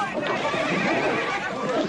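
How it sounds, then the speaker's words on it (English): A bucking bronco whinnies loudly and steadily at a rodeo-style display, the neighing continuous and close, with voices talking over it. "I never dreamed I'd ever see a bucking bronco."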